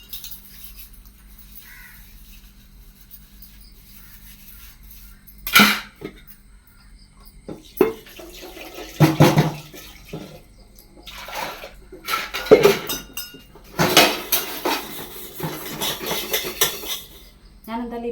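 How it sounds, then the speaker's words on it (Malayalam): Kitchen dishwashing of a few items, a tea pot and two or three ladles, with clattering pots and clinking cutlery in bursts over a faint background of water, close and irregular, with no talk. "ഞാൻ എന്തായാലും ഈ പാത്രങ്ങളെല്ലാം ഒന്ന് കഴുകി പറക്കി എടുക്കട്ടെ"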